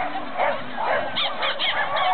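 A dog barks and yips at an agility competition, a few short excited barks amid crowd noise and the loudspeaker commentary of an announcer.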